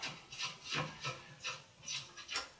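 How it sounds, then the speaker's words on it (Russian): Screws on a right-hand-drive LED headlight housing are worked loose with an ordinary Phillips screwdriver, giving a run of about seven short, dry scraping and rasping strokes close by, with no voices. "Держится он на трех винтах под обычную крестовую отвертку."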